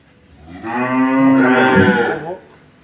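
A dairy cow at a farm selling milking cows lets out one long, loud, close moo lasting about two seconds, rising and then fading against a quiet background.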